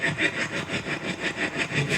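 Rapid sweeping static noise from a spirit box scanning radio, pulsing in a steady repeated rhythm, moderately loud and continuous with no voices over it.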